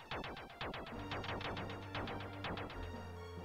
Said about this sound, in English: It's Morse code. It's a signal ships use to talk to each other.